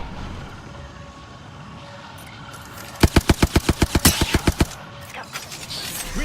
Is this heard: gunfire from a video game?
yes